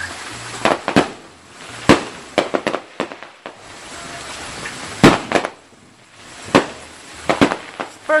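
Fourth of July fireworks go off nearby in a yard, with irregular sharp bangs and crackling bursts, some in quick clusters and others spaced seconds apart, over a faint hiss.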